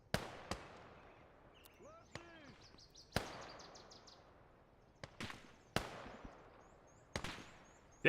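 Sharp gunshots ring out in the Gates of Hell: Ostfront Finland campaign, a series of separate cracks spread across the stretch with short gaps, amid distant battle noise and whistling sounds.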